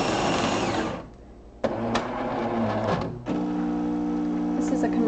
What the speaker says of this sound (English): A couple shots of espresso using the Jura Super Automatic.